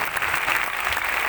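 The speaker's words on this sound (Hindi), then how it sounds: "यीशु नाम के लिए ताली बजा रहे हैं" A worship audience at Arts Council Karachi claps hands together continuously, dense steady applause close by with no pauses.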